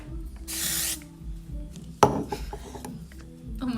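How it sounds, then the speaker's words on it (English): A steady hiss of dry texture hair spray bursts for about half a second, followed by scattered handling clatter and rustling in a quiet room. "I will finish with some dry texture spray."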